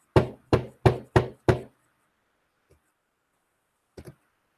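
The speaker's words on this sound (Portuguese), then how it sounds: "ele escutou alguém bater na porta" Five sharp knocks on a door in quick, even succession, loud and close, then a faint tap and a final soft double knock after a pause, with no voices.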